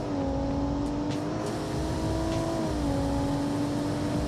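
Carbureted modern SUV in BeamNG accelerating hard in a straight line, a steady droning engine tone that rises slightly and holds, loud and close with no talk.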